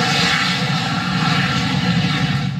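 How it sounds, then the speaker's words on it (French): Aircraft engine roaring steadily and loudly for a few seconds at takeoff, a broad continuous rumble with no voices over it. "avion 2, autorisation de décoller."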